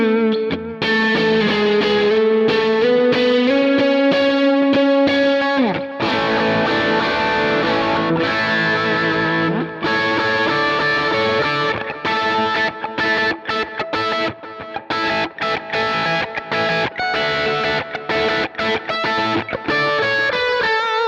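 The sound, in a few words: high-gain guitar tone from a Kemper profiler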